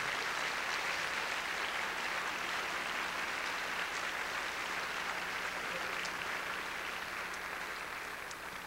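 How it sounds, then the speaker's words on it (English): An audience applauds the production crew with continuous, evenly spread clapping from a large crowd, moderately loud and steady throughout, fading only slightly toward the end. "it would be appropriate for you to give them an applause and just to say thank you."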